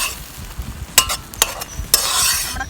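Clams roasting in a hot pan sizzle steadily at close range, broken by a few sharp scrapes as they are stirred, with no talking.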